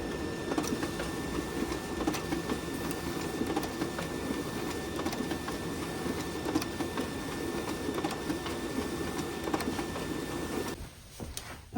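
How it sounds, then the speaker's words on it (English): A printer runs steadily through a print job in an empty lounge, a continuous mechanical whir with faint ticks and hums lasting about eleven seconds before cutting off abruptly near the end. "I'm gonna go ahead and print them out."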